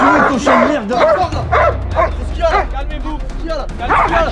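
A dog barks, yips and whimpers in short bursts in a tense indoor scene. Loud speech from several people runs alongside it, shouting and overlapping.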